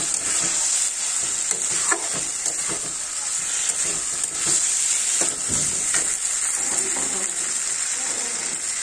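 Meat sautéing in a pan gives a steady close hiss and crackle of frying with irregular stirring scrapes and knocks, a constant high sizzle throughout and no speech.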